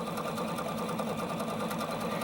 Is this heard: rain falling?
no